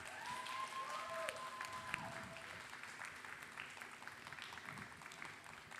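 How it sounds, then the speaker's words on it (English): A small audience claps after a glassblowing demonstration at a glass museum, moderate and fairly close, with a few faint clinks and murmurs mixed in as the clapping continues. "How about a round of applause?"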